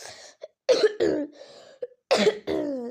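Several harsh coughs in separate bursts, close and fairly loud, with short pauses between them.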